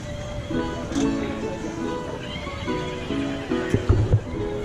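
A horse neighs at a jousting show, its whinnies rising several times over the clip amid steady background chatter, with a louder burst near the end.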